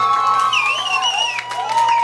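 Audience in the "Końca nie Widać" pub in Tarnobrzeg cheering and whooping after a Run Way Sound reggae set, a steady loud crowd roar with rising shouted voices throughout.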